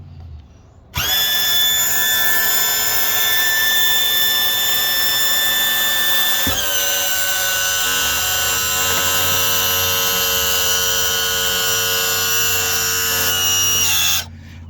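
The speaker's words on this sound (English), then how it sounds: "So let me just lower my motor" A Mercury 2002 two-stroke outboard's tilt-trim motor whines loudly and steadily as the engine lowers, starting abruptly, shifting pitch slightly midway under load, then cutting off after about thirteen seconds.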